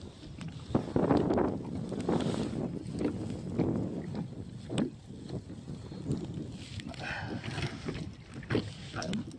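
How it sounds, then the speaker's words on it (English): Wind blowing across open water around a small fishing boat during bass fishing, a steady close rumble of gusts buffeting the microphone, with faint knocks and splashes throughout. "The wind picked up."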